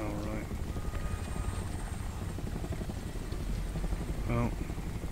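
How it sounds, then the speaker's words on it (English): A surveillance drone hovers and scans people in the video game Homefront: The Revolution, giving a steady rotor-like engine drone under game ambience and a voice, rising slightly near the end. "Oh, there's a drone thing. No, it's scanning people."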